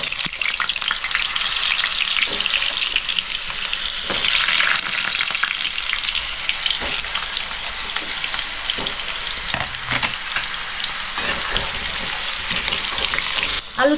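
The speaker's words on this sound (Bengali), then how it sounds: "এবার আমি আলুগুলো একটু ভেজে নেবো।" Potatoes fry in hot oil in a wok with a loud, continuous sizzle, broken by repeated scraping and clattering stirs throughout.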